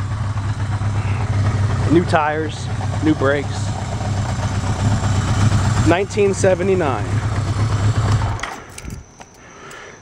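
Low, steady idle rumble of a 1979 Yamaha XS1100 cafe racer motorcycle at 1,000 RPM close by, with someone talking over it twice before the engine cuts off.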